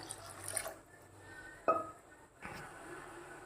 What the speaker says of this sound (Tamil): 1 கப்பு அரிசி எடுத்ததுனால 3 கப்பு தண்ணி ஊற்றுவோம்.